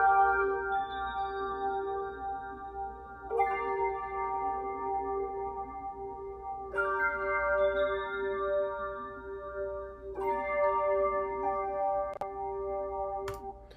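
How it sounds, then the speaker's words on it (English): Layered Rhodes electric piano, pitched up an octave through flanger effects, strikes sustained bell-like chords about every three and a half seconds, ringing quietly and alone over a soft noisy bed. "Next is the second Rhodes layer,"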